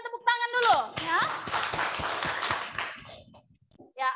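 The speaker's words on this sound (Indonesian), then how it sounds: "Mantap, berikan tepuk tangan dulu" A classroom of students claps for a classmate in a dense burst of about two seconds, with a teacher's voice speaking just before and again as the clapping fades.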